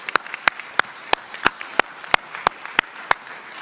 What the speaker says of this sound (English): Let's give a big round of applause to our student panel one more time.